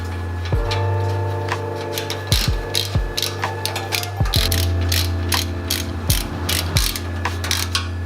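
Ratchet wrench tightening nuts on the exhaust muffler of a Mazda MX-5, rapid pawl clicking bursts repeating steadily over a constant low idle-like hum, close and loud.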